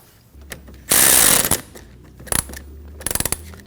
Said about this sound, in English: Make sure that your 10mm is orientated so that you can tighten it down.